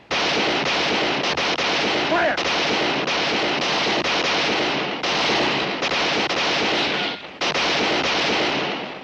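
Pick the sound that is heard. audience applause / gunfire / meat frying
gunfire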